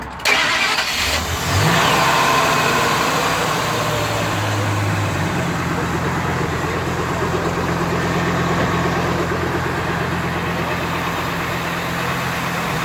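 A 1947 International truck with a Triton V10 engine starts up and settles into a steady, loud, close rumbling run with slight revving throughout, no voices over it.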